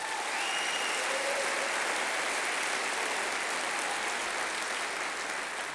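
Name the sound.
audience applause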